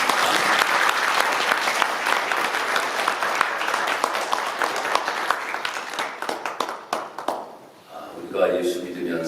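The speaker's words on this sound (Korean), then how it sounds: "다시 한번 우리 어르신들을 위하여 박수 한번 하도록 하겠습니다" Church congregation applauding the elders at a Sunday morning worship service, a dense, steady wash of many hands clapping that thins into scattered claps and fades near the end.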